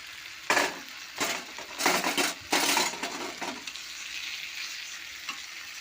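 Chicken masala frying in a wok while being stirred, several loud, close bursts of scraping and sizzling in the first three seconds, then a quieter steady frying hiss.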